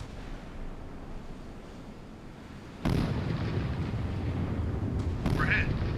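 Artillery shells landing and exploding near an enemy gun in a naval combat video game: two heavy booming impacts about two seconds apart, loud over a constant rumbling background, with someone talking under them.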